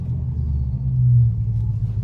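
A Dodge SRT drives through a neighborhood, its engine giving a loud, low, steady rumble with a slight swell partway through, close and continuous with no voices.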